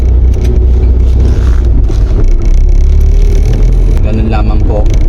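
A manual-transmission car pulls away from a stop after clutch and accelerator are worked and the handbrake released, its engine a loud, steady low rumble with a voice talking over it.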